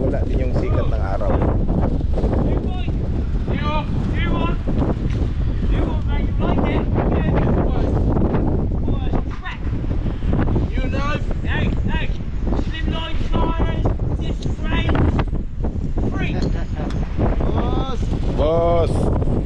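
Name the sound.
cold wind on a boat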